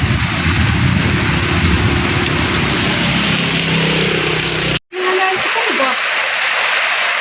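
Loud, heavy rain roars steadily on a hard surface of plywood and corrugated metal sheeting over a small shop, cuts out briefly, then continues as a softer patter with a voice speaking.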